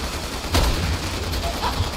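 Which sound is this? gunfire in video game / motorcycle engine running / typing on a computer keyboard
gunfire in video game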